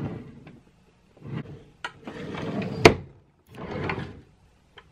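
Dressing table drawer pulled open and pushed shut, giving a few wooden sliding rubs and a sharp knock, close by in a quiet room.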